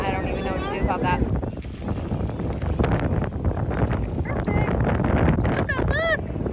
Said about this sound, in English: It's so nice and sunny, but the wind is just so much.